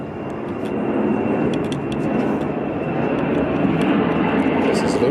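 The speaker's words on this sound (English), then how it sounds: "So, another plane." An airplane passes overhead during work on a MK3 Supra engine bay, a steady, broad engine drone holding at even loudness throughout, with faint voices underneath.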